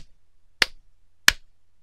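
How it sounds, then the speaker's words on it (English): Two sharp, loud hand claps land close to the microphone about two-thirds of a second apart, each crisp and isolated against near silence. "clapping three times loudly near the mic"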